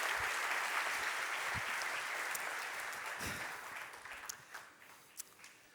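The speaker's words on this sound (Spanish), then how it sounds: "Un aplauso a Jesús." A church congregation applauds during a worship service, with loud sustained clapping from many people that gradually thins out, leaving a few scattered claps and thumps near the end.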